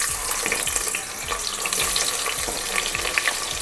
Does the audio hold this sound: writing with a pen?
no